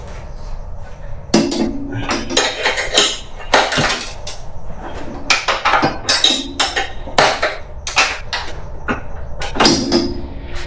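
Metal socket and hand tools clink and clatter while wheel well bolts are removed from a vehicle, a loud, busy series of sharp metallic knocks and jangles at close range.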